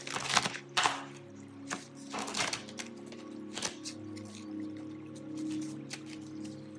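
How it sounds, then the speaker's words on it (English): A handmade nature-themed tarot deck is shuffled in several quick riffling bursts of card clicks and flutters, close and fairly soft, with pauses between bursts. "even this deck is shuffling a little bit weird"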